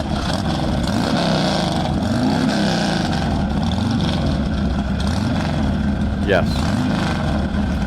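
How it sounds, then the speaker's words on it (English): A racing motorcycle drones steadily at El Mirage dry lake, its engine note rumbling and shifting through a sustained pass, with a voice speaking briefly over the continuous noise. "Nice sounding bike."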